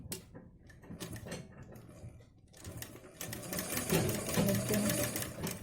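A sewing machine stitches along a blouse neckline, its rapid mechanical chatter starting softly and then running steadily and louder near the end.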